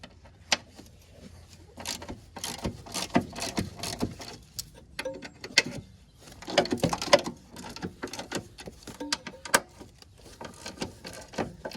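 A wrench works loose the three top strut bolts while a 30mm suspension lift kit is fitted: irregular close metallic clicks and ratcheting ticks with brief clatters, no talking.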